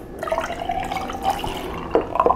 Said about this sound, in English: We also have some cran pineapple juice that I'm getting ready to pour